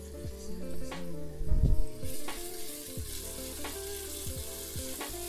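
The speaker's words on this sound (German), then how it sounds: "So, 2 Minuten anbraten mit Salz" Turkey medallions sear in a hot pan with salt, giving a loud, continuous sizzle with brief louder bursts and light scraping of stirring, close up and without talk.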